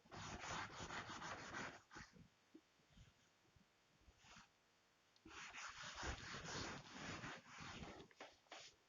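A board being wiped clean with repeated rubbing strokes, each a soft, scratchy swish in two longer bursts separated by quieter, shorter strokes, fairly close and alone.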